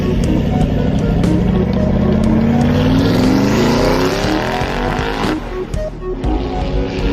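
A powerful off-road truck grinds through deep mud on a steep climb. Its engine revs loud and close, the pitch rising and straining under load, with rough bursts as it pushes for the top.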